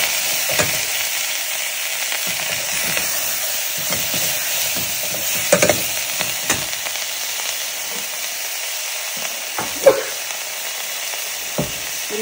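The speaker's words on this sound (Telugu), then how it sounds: "ఒకసారి కలుపుకున్నాము, కొంచెం ఫ్రై చేసుకున్నట్టు" Drumstick leaves frying in a pan for dal, a steady loud sizzle with occasional scraping and stirring knocks throughout, no voices.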